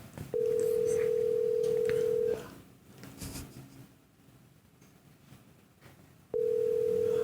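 A phone call rings out while waiting for an answer: a steady ringback tone holds for about two seconds, then a quiet gap with faint room noise, and the next ring starts near the end.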